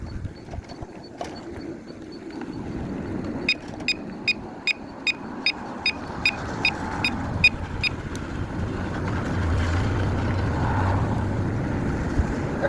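A motorcycle engine runs steadily while riding along a rural road, with a loud, continuous low rumble and wind noise, plus a series of evenly spaced clicks or ticks partway through.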